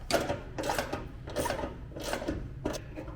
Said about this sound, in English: Got a ratchet for underneath where I'm going to get better access.